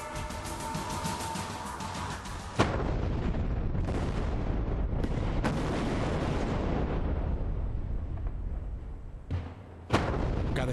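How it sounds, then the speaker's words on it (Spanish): Rock-blasting explosions at pier 9 of the Baluarte bridge, a series of loud booming blasts with sharp onsets near 2.6, 5, 9.5 and 10 seconds, followed by sustained rumbling debris and roar between them, no talk. "Las voladuras de la pila 9 son monitoreadas por un grupo de sismólogos"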